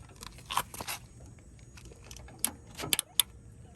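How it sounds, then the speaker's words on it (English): Blade on an Ego Z6 mower being pushed onto its mount, giving a couple of sharp clicks and knocks amid quieter handling noises, close by, with no talk. "There's first click, and then as they described it, there's a second click."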